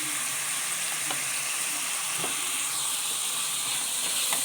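Chicken sautés in a pan with a loud, continuous close-up sizzle, marked by a few faint scrapes and taps of a utensil, without talk.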